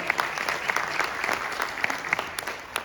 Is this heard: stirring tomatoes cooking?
no